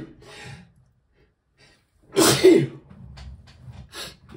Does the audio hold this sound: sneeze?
yes